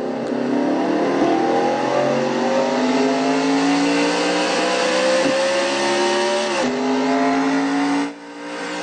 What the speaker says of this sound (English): Aaron gets the car refired and drives away